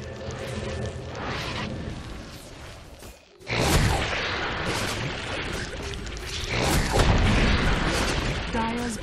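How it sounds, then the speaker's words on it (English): A tower is destroyed in a Dota 2 match, heard as a heavy boom with a whooshing burst that gives way to sustained rumbling game effects, while a voice talks over it. "Dire's bottom tower has fallen."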